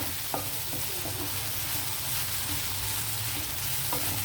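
Chopped ridge gourd sizzles in hot oil in a pan with coriander, curry leaves and green chillies, a dense continuous frying hiss with occasional spatula clicks and stirring scrapes, and no talking.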